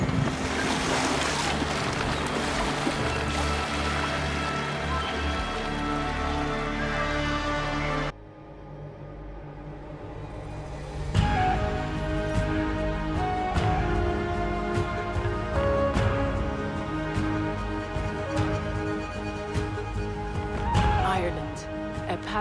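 A Viking longship glides across the open sea in Assassin's Creed Valhalla, with rushing waves and wind under a swelling musical score; characters speak partway through.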